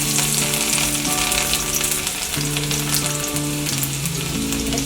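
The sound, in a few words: garlic frying in a pan with cumin and ginger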